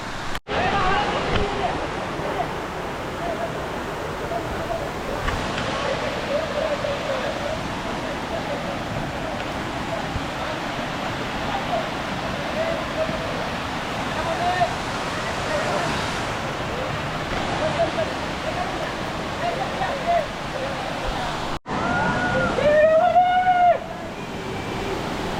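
Maharashtra's tallest waterfall roars as a steady, broad rush of falling water close by, with wind buffeting the microphone and a brief burst of voices near the end.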